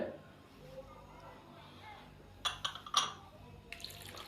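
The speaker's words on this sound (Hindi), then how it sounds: "और 1 गिलास हम इसके अंदर पानी शामिल कर देंगे।" A glass of water poured into a bowl of raw chicken wings already seasoned with salt and vinegar, heard as a few soft clinks and splashes and then a brief steady pour, close and fairly quiet.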